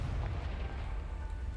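A Confringo blasting spell explodes in Hogwarts Legacy, a loud, deep, rumbling boom that fills the whole moment and fades slightly toward the end, with no talk over it.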